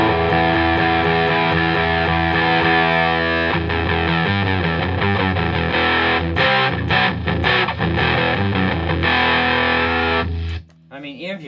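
Bass guitar played through a Behringer BOD400 bass overdrive pedal, a loud, dense distorted tone with gritty breakup, sustained notes giving way to rapid changing phrases before stopping abruptly near the end.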